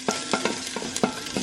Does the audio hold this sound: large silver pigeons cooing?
no